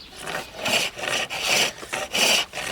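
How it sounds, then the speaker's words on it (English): A flat chisel pares along the grain of a piece of wood, producing about five rhythmic rasping strokes, each a loud, close scraping whoosh separated by brief pauses. "Always want to work so you're smoothing down the grain rather than roughing it up."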